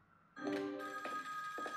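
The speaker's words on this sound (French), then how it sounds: "Téléphone qui sonne" An AI-generated telephone (Google Veo 3) rings in clear, close bursts, with about three pulses of a bright electronic bell tone and no other sound.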